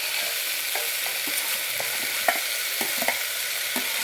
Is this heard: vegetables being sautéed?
yes